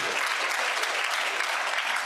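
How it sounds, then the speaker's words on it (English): An audience breaks into applause, a dense, even patter of many hands clapping at a moderate distance that holds steady for a couple of seconds. "You may applaud."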